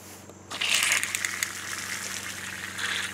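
Water gushes from a garden hose through a flow meter, starting abruptly after a short quiet moment and then running as a steady, fairly close hiss.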